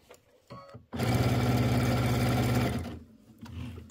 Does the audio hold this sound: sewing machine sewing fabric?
yes